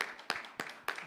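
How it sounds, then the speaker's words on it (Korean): Church congregation at a Christmas service clapping together, three evenly spaced, sharp unison claps heard faintly in a quiet room. "우리 같이 한번 박수 할까요?"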